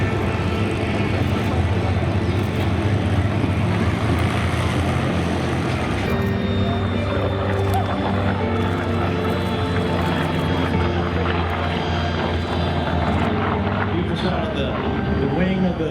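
A P-47G Thunderbolt warplane makes a low pass over an airfield in Santa Maria, California, its heavy piston-engine roar loud and steady throughout, while a commentator talks over it.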